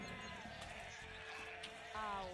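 A sheep bleats in a video game, a faint wavering cry rising near the end above a dense layer of game sounds and music.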